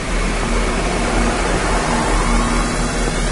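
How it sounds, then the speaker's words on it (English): A vacuum cleaner hoovers inside a house in the horror video game Mental Hospital, a loud, steady broadband roar with a low hum that holds constant throughout, with no talking. "someone's hoovering in the house"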